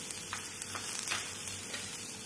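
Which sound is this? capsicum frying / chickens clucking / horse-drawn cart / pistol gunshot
capsicum frying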